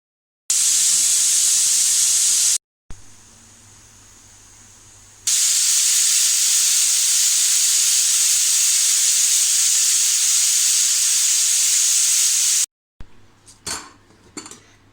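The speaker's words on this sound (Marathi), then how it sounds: "कुकरला झाकण लावून घेऊया आणि 2 शिट्या मोठ्या आचेवरच आपण करून घ्यायचे" A pressure cooker cooking chicken masala gravy on high heat hisses and whistles loudly in steady steam bursts, with a short break, a long continuous blast, then a few metallic clatters.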